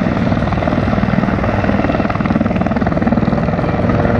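A military helicopter hovers at a Marine demonstration in Detroit, its rotor thumping in a steady, loud, continuous drone close by, the chopping beat unchanging throughout.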